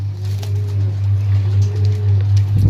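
Pigeons cooing at a bird seller's in Sarai Alamgir, two soft drawn-out coos standing out over a steady low hum and background noise.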